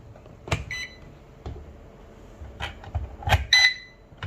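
A handful of short electronic beeps and chirps from a C186 or C127 Sentry spy drone remote controller, spaced irregularly, some brief tonal bleeps, fairly quiet with no speech.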